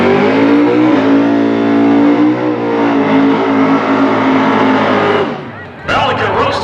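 A 383 small-block Chevy engine revs hard and loud, a rising sustained roar that drops off near the end, then a burst of tire-roasting noise, with commentators talking over it.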